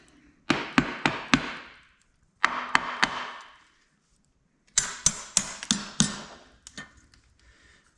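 Sharp hammer taps on the transmission cover of a John Deere 430 two-cylinder tractor, delivered in three quick bursts of four to six crisp metallic knocks separated by short pauses, close and clear with no talk.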